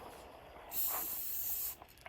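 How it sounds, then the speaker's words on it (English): A single sustained hiss of a Rust-Oleum metallic finish spray can, held for about a second while coating a Mandalorian helmet, close and fairly loud in a quiet room. "So I used Rust-Oleum metallic finish. That's the spray paint that I used."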